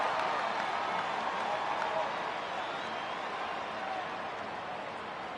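A large crowd at a VFL Australian rules football match between Footscray and Richmond roars in a steady, dense wash of cheering that fades slightly toward the end.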